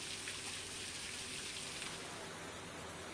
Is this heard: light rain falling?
yes